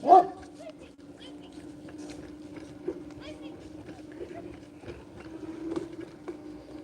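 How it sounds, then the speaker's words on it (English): A big dog barks outdoors along downtown sidewalks near a university campus, with one loud bark at the start and fainter sounds afterward. People talk nearby. "Man, that big dog."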